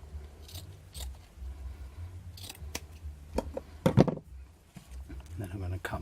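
Scissors snip through doubled-over ribbon for a farmhouse spring wreath, giving a few sharp close cuts with crisp scraping bites between quieter handling sounds, while a person talks.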